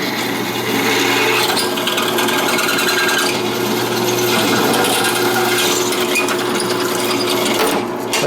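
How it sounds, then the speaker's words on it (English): A power drill bores a hole through a part for a derailleur hanger alignment gauge, its motor whirring steadily and close for several seconds before cutting off near the end. "let's go ahead and drill this guy."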